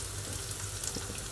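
Peppers frying in a dry pan with no oil give a soft, steady sizzle with faint crackles and small pops, heard quietly and close.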